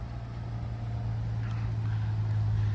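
At a dealer auction, a car engine idles steadily nearby, giving a low, even hum with no voices over it.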